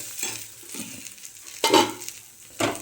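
Spice masala cooking in a pan for a black pavta (lima bean) amti, with quiet stirring and scraping followed by two louder bursts of sizzling as the mixture is worked, close and without any talk.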